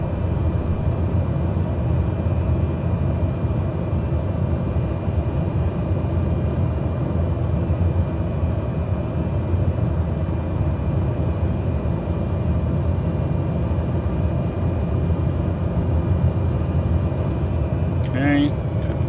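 Steady, loud engine drone of a Cessna 208 Caravan turboprop in Microsoft Flight Simulator, a constant low rumble that holds unchanged throughout with no breaks.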